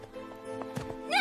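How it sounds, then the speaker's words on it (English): A horse whinnies in a short, rising, high-pitched burst at the very end of a brief farm-animal sound sequence, fairly clear and close. "Horse says neigh,"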